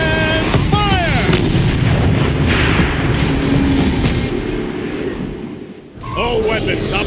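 A turret cannon fires in the video game Horizon Zero Dawn, giving loud heavy booms over a dense, continuous battle din. Voices talk over much of it, and the noise dips briefly before a sharp blast near the end.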